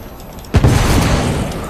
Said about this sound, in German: Der Schaden durch die Explosion wird schlimmer.